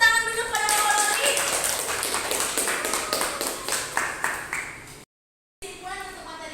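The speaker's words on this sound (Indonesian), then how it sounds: "Beri tepuk tangan dulu pada Bapak Loli." Students in a culinary education classroom clap for a teacher, a lively round of distinct hand claps with rhythmic accents, voices mingling over it, briefly dropping to silence before resuming with chatter.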